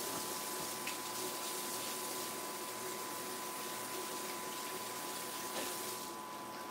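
Tap water runs steadily into a kitchen sink while hands are washed after handling raw meat, a constant faint rushing hiss with a low hum beneath it.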